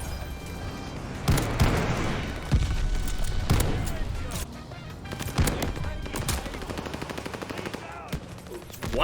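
Video game shotgun fire: several heavy, spaced blasts ring out over roughly nine seconds, each a loud broad burst with a decaying tail, interspersed with quieter game noise.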